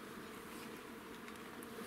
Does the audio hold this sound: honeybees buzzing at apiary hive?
yes